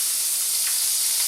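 Avocado oil sizzles steadily in a hot pan before eggs go in for a breakfast omelette, a constant close, bright hiss with no pauses and no talking.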